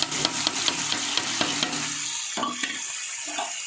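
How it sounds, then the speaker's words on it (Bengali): Cut beans sizzle and crackle in hot oil in a wok while a utensil stirs and scrapes the pan with repeated taps. "আগে থেকে কেটে রাখা বিনসগুলো সব কড়াইয়ে তেলের মধ্যে দিয়ে দিলাম"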